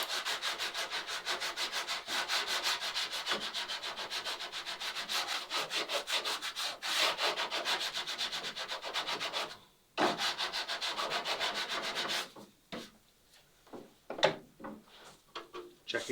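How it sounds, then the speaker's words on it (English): Someone shapes the bevel on a wooden boat plank with a sanding block, making rapid, steady back-and-forth rasping strokes up close that pause briefly, then resume before trailing off into a few scattered scrapes. "And you could use the sanding block for this too."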